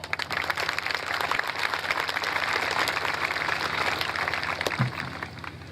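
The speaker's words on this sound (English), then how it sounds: "give yourselves a round of applause" Graduates and their audience applaud at the 2019 Albert Gallatin High School graduation ceremony. A steady wash of many hands claps continuously at moderate volume in a large hall.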